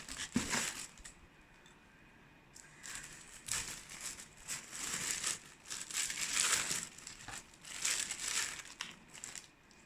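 A crinkly plastic bag of chocolates, candy and coffee crisp bars is opened at close range, giving repeated bursts of crumpling and crackling with short quiet gaps between them.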